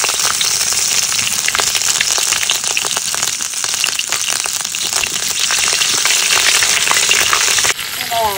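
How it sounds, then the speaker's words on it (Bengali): Cumin seeds, bay leaf and green chilli fry in hot oil with a loud, steady, close sizzle and crackle that runs unbroken almost to the end. "তেল ফুটে গেছে, এবার জিরে জিরে ফুটন দিয়ে দিলাম, তেজপাতা,"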